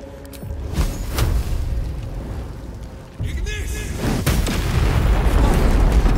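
A fiery explosion in the fantasy role-playing game Baldur's Gate 3 booms and rolls on into a sustained roar that builds louder toward the end, with a voice speaking faintly beneath it.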